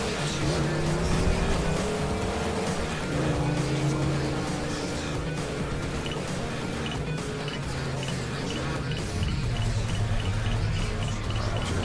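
A car driven in a driving video game, its engine droning steadily and loudly throughout with shifting pitch as it accelerates and cruises, under a constant dense mix of game sound.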